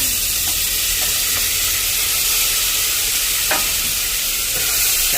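Tomato fries in a pan with cloves and cinnamon, a loud, steady sizzle and hiss filling the whole stretch, with a few light clicks of stirring and no talk.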